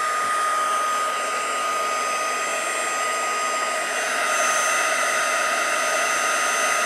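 A heat tool on setting 2 blows a steady, loud, even whoosh of hot air while melting embossing powder on stamped images, holding constant throughout with no pauses and no talking.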